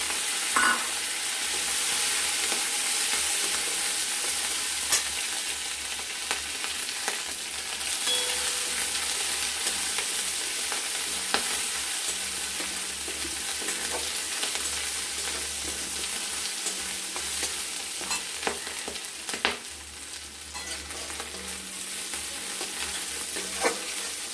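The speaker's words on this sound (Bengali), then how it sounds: "গোটা জিরেটা লাল লাল হয়ে আসলে আমরা দিয়ে দেব আদা বাটা, আর তার সাথে দিয়ে দেবো কাঁচা লঙ্কা" Ginger paste and green chilies sizzle in oil with browned whole cumin seeds for a taro-leaf dish with hilsa fish head, a steady close frying hiss with scattered spatula scrapes throughout, no voices.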